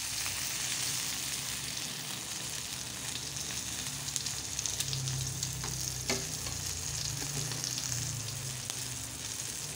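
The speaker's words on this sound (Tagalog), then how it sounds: "Maluluto ng ating pork longganisa para sa ating tanghalian." Pork longganisa sausages sizzle steadily in a pan over very low heat, a continuous crackling fry with occasional faint clinks of a utensil and no talk throughout.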